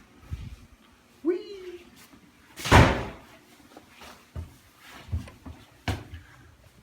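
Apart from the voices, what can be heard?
door being shut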